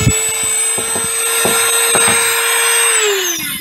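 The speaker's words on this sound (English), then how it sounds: "So let's touch this up a little bit with, I'm going to use my Dremel." Dremel rotary tool touching up the edges of a cut wooden star, a steady high whine held throughout with short scraping contacts against the wood, close and loud, winding down at the end.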